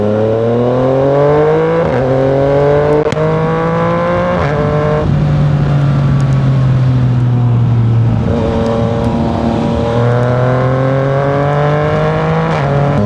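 Yamaha Niken 900 three-wheeled motorcycle on an expressway, engine loud and close, rising in pitch through each gear, with clear shift drops and steady wind rush throughout.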